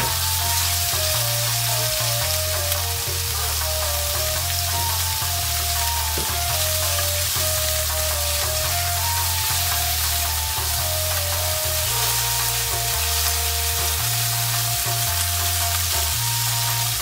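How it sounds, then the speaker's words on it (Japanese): Tofu stir-frying in a pan for goya champuru, a continuous loud sizzle and crackle throughout, layered with a steady musical background and no talking. "豆腐炒めていきたいと思います"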